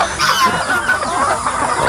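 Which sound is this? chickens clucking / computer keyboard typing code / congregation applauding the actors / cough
chickens clucking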